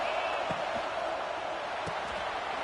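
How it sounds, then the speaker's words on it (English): Stadium crowd in an NCAA college football video game, Michigan versus Clemson, gives off a steady, dense roar with no break, plus a few faint thumps beneath it. "this crowd is fired up. Listen to this noise here."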